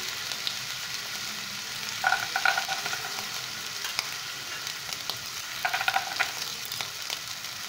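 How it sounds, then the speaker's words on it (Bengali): Peanuts and spices fry in oil in a pan for lemon rice, a steady close sizzle with brief bursts of stirring and scraping now and then, no talking. "এবার এগুলো ভালো করে ভেজে নেব। এর মধ্যেই আমি দিয়ে দেব চিনেবাদাম,"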